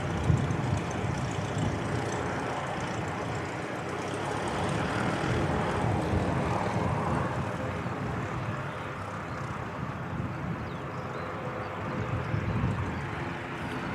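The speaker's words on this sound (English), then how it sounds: "Another ATR coming out." An ATR turboprop airliner taxiing out at an airport, a steady broadband engine hum and whine heard from moderate distance, continuous with slight swells in loudness.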